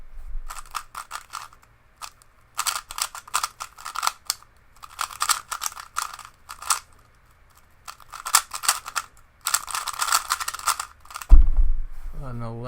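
A coated, weight-balanced RS3 2020 speed cube being turned fast in bursts of crisp, clacky plastic clicks with short pauses between, close and alone, ending in a brief low thump.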